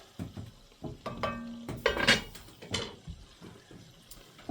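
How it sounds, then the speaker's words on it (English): Beef tallow being stirred in a pot on a woodstove, with scattered scrapes and clinks of a utensil against the pot over a faint sizzle, moderately loud and close. "Just giving the tallow a stir here."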